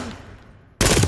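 Sudden loud burst of automatic gunfire in the tactical shooter game Ready Or Not, erupting after a quieter stretch and sustained to the end as dense, close rapid fire.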